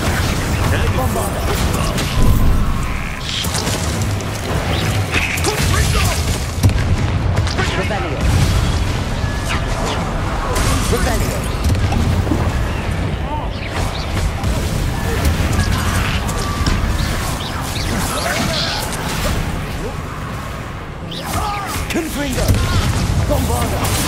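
Bombarda blasting spells and other combat spells going off in Hogwarts Legacy on PS5, with repeated booms and crashes through a dense battle mix, and voices shouting spell names and lines over the explosions.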